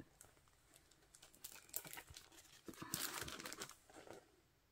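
Pages of a Jen Hadfield Reaching Out sticker book are flipped quickly, giving faint papery crinkles and rustles that build to a busier flurry before settling.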